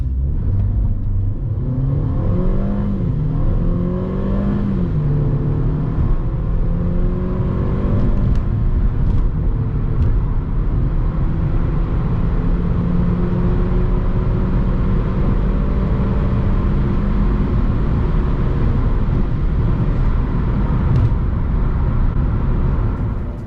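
A Mercedes A 250 AMG Line accelerates hard in a performance test, its engine note climbing steadily through the gears with loud, close revving and brief dips at each shift.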